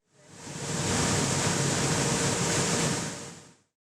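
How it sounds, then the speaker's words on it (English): A Joper industrial coffee roaster bought in 2017 runs with a steady, broad rushing roar like blowing air, rising in, holding constant for several seconds, then cutting off. "This giant machine is our roaster"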